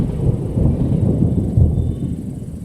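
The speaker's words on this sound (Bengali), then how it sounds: "মেঘের গর্জন শোনা গেল।" Low rolling thunder in a horror story, a deep continuous rumble that swells and fades over a couple of seconds with no voices.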